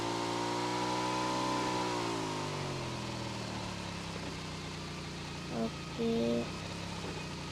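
Motorcycle engine idling in the battle-royale game BGMI, a steady low mechanical drone that holds throughout with a slight pitch dip partway, while a brief spoken word and a couple of short game tones sit over it.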